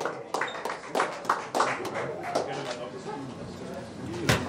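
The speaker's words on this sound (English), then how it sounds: "Round of applause for the Taniwha," Applause for a boxer at a weigh-in, a crowd clapping in scattered bursts with sharp individual claps, fairly close, mixed with voices in the room.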